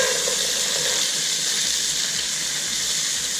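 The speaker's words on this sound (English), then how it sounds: "I'm going to dump my frozen onions into the pan" A bag of frozen onions hits a hot pan and sets off a loud, steady, broadband sizzle and hiss that holds evenly throughout, close up with no voice over it.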